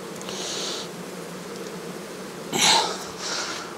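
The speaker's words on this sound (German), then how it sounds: "Das ist Wahnsinn, was da Bienen dran sind." Honey bees buzz around an opened hive box during a varroa mite check, a constant close humming swarm with individual bees whining past louder at times.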